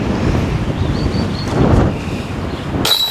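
Wind gusts across a disc golf course during a New Zealand tournament, making a steady, loud, blustery rumble against the microphone, with a brief harsher burst near the end.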